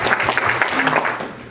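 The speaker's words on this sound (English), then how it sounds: "that might be the applause" Audience applause at a Turning the Tides 2014 conference gathering, a dense wash of clapping heard throughout at moderate loudness.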